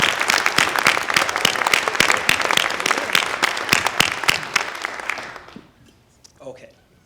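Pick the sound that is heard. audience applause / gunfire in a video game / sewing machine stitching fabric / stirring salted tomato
audience applause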